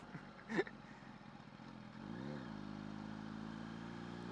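A supermoto motorcycle engine revs up and settles into a steady rising drone, fairly faint and heard from the rider's position, after a brief knock at the start.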